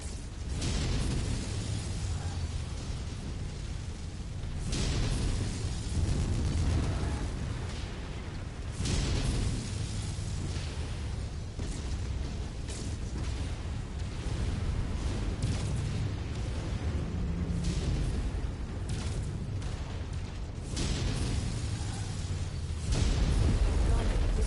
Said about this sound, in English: It's about to go all explodey.